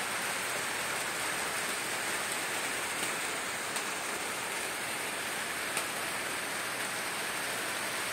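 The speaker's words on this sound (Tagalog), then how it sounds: "Maaga ang ulan ngayon." Steady midday rain on a farm hisses evenly throughout, a dense wash of falling water with a few faint drips standing out, no voices.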